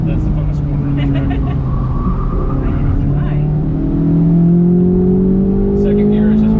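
A Corvette's engine revs hard in second gear on a race track, a loud continuous in-car roar with rising pitch sweeps as it accelerates through a corner.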